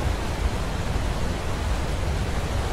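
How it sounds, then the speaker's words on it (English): A waterfall in a video game gives off a constant, even roar of rushing water. The sound is fairly loud and steady, with no other sounds over it. "I want to go see this, this waterfall."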